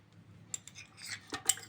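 Large spoon scooping garlic in a kitchen while making Syrian toum, a few quick metallic scrapes and clinks against a dish, close and soft, over a faint background hum.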